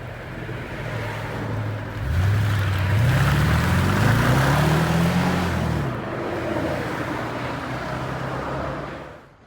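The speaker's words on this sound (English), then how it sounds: "Toyota Tundra Platinum. You guys saw the TRD system, so he's about to drive it off." Toyota Tundra Platinum 2014 with a 5.7-liter i-Force V8 and TRD exhaust pulling away, a loud low engine rumble that rises as it revs, then settles into a steady drone as the truck drives off, with no voices.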